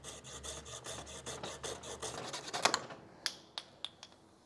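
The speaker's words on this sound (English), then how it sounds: "now here comes the scary part of actually having to cut the paddle shaft" A saw rasps steadily back and forth through a paddle shaft in quick, even strokes, then slows into a few sharp, separate clicks and snaps as the cut finishes, close by and with no voices.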